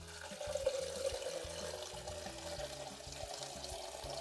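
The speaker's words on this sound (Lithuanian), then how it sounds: "prisileidžiam vandenuko" Water runs steadily from a kitchen tap, a soft continuous flow at low level that carries on without pause.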